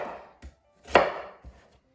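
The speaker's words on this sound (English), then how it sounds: "Then peel and roughly chop 1 large onion." A knife roughly chops a large peeled onion on a board with a handful of crisp, separate cuts, one noticeably louder, close and alone in a quiet kitchen.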